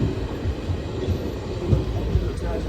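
A train rumbles past close by, a continuous heavy low roar with rhythmic thumping of wheels.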